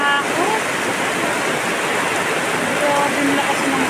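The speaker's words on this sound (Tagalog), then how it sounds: "Grabe ang lakas ng ulan." Heavy rain pours down in the Philippines during flooding, a dense loud continuous roar of water with faint voices beneath.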